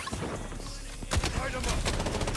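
Rapid bursts of gunfire ring out in the shooter game BloodStrike, several sharp cracks clustered in the second half over a busy, dense game-sound background.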